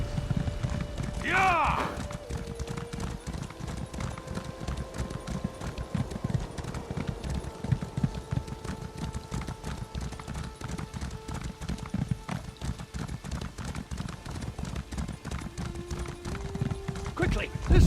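Horse hooves gallop steadily in the video game The Elder Scrolls Online, a fast, even clip-clop rhythm that runs throughout. A neigh sounds near the start, and a voice speaks over the hoofbeats.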